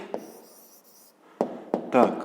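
A pen scratches an answer onto paper in a math exercise, with a few short bursts of writing strokes separated by quiet pauses; a voice speaks briefly near the start.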